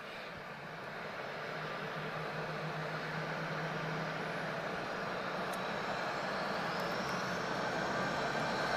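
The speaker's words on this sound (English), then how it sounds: "I hear some big engines." Big aircraft engines at Lisbon Airport give a steady, distant roar that slowly builds in loudness, with a faint rising whine over the drone.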